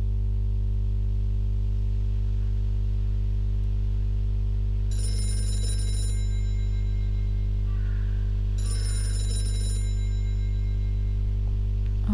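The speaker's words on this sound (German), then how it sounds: "Ich glaube, das Telefon klingelt gleich." Telephone ringing inside the video game Gray Matter, two bright rings a few seconds apart over a steady low hum, with no talking.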